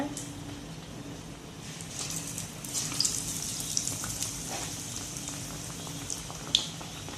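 Bread pakoda, slices of bread dipped in batter, frying in hot oil, a soft, steady sizzle and bubbling at low volume with occasional small pops.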